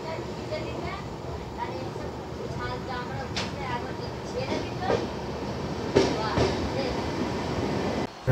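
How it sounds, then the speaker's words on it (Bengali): Howrah–Varanasi special train 03005 running after leaving Raniganj station toward Asansol, heard from on board as a steady rumbling roar with occasional clacks and knocks throughout. "ট্রেনটি কিন্তু বেশ আগে আগে চলছে এবং খুব সুন্দর যাচ্ছে।"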